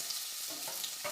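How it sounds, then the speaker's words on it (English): Chopped onion sizzles in hot oil in a pan for a Goan-style pumpkin curry, with a steady close frying hiss and a few soft stirring scrapes. "Once the pan is hot, add oil, add onion"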